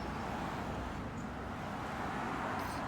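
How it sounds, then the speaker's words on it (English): Cars passing by on a road, a faint, steady traffic rumble and hiss at a distance, continuous with no distinct single pass-by. "too many cars come by right now"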